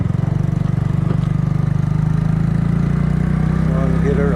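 Close and loud, a Kymco People scooter idles with its newly painted exhaust, a steady low pulsing putter that holds evenly from start to finish, with faint voices underneath.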